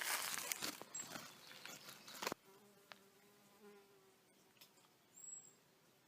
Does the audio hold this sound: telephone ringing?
no